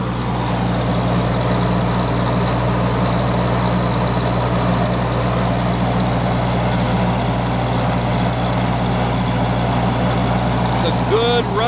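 A Kohler 10kW slow-speed, liquid-cooled generator runs under a load of over 50 amps, giving a steady, loud, low engine drone with a constant hum that stays even throughout.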